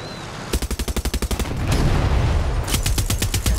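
Automatic gunfire in the video game Far Cry 6: a loud, rapid burst of evenly spaced shots, a short pause, then a dense rumbling volley and another fast burst, with no talking over it.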